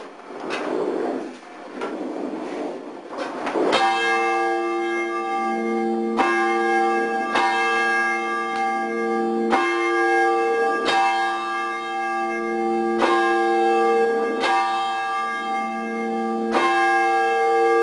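A church bell rings loudly and close, struck at a steady slow rhythm about every one to two seconds, its bright tones ringing on between strikes.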